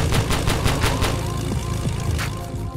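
Rapid bursts of aircraft gunfire ring out in the Roblox game Base Battles, a dense, loud run of repeated shots over a steady engine drone.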